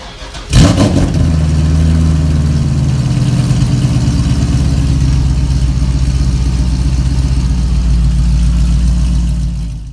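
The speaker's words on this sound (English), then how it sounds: "let's just get a quick idle clip and see what it sounds like with just the stock camshaft in there" Cadillac CTS-V with an LS2 V8 on its stock camshaft starting up with a sharp burst, then settling into a loud, steady, close idle that rumbles evenly to the end.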